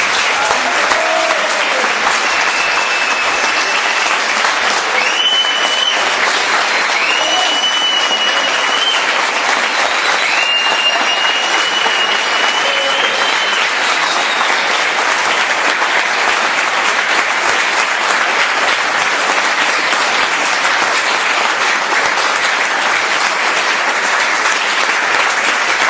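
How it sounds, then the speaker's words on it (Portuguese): A church congregation claps long and steadily for about half a minute. The dense applause holds an even level throughout, and faint voices rise above it now and then. "Pode aplaudir, porque essa é do Cordeiro."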